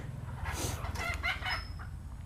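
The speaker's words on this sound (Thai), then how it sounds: "ไก่มินิโคชินครับ มีตัวผู้กับตัวแม่ีสองตัว" Mini Cochin chickens, a rooster and a hen, clucking close up in a steady run of low, throaty calls with a brief higher squawk, heard alone without talk.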